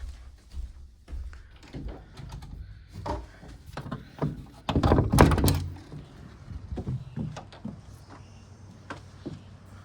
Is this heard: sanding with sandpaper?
no